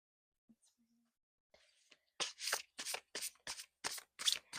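Animal oracle cards being shuffled, a few faint rustles and quiet handling sounds, then a rapid run of crisp, close riffling bursts repeating roughly every half second, with no talk over it.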